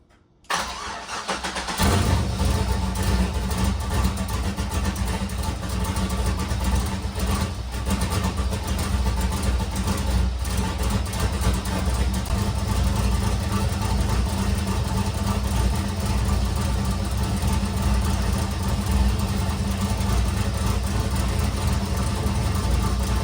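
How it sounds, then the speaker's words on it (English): A Nissan S13 engine cranks and fires up, then settles into a steady, loud idle that runs on evenly at close range without talk. "we're gonna go ahead and start the car"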